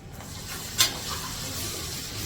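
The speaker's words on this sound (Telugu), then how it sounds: "అల్లవెల్లి వేస్తున్నా చూడండి" Ginger-garlic paste frying in a pan for mutton curry, a low continuous sizzle with one sharp hissing burst early on, fairly quiet and without talk.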